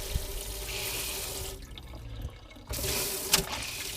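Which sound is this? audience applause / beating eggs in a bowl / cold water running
cold water running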